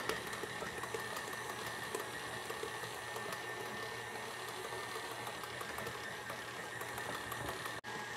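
A stand mixer runs steadily at medium speed while butter is added bit by bit for French sandwich bread dough, a continuous close motor whir with a faint rhythmic churn and one brief dropout near the end.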